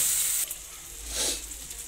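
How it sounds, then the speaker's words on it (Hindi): Tomatoes and chopped vegetables fry in a pan for street-style Maggi noodles with egg, a bright hissing sizzle that drops after a moment, then swells again in a brief surge before settling. "अब मैं इसके अंदर टमाटर डालूंगी, तो टमाटर को भी भून लेना है अच्छे से"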